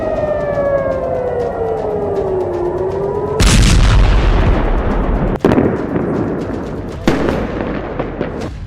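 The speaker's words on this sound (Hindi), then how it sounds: "नवंबर की शाम को हिजबुल्लाह ने इजराइल पर 100 से ज्यादा रॉकेट दागे।" In Tel Aviv during a Hezbollah rocket attack, an air-raid siren wails and falls over loud, continuous rumbling, then a powerful boom cuts in, followed by further sharp blasts and crackling explosions, with no voices.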